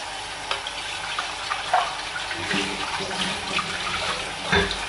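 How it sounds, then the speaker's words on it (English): Pot being scrubbed by hand under a running kitchen tap after cooking semolina, a steady wash of water with intermittent scraping and clattering strokes, close by. "with running water I'm just going to scrub this all out quickly"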